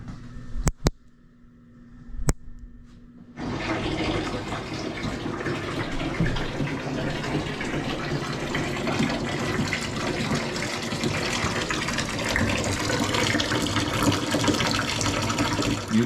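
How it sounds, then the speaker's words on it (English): A bathtub fills from the tap: after a few seconds of quiet with a couple of sharp knocks, a loud, steady rush of water gushes continuously into the tub, close by and alone. "I'm gonna fill this tub up and get out of here."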